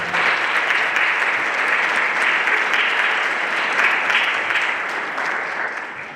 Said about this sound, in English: I think it's appropriate that we give them all a round of applause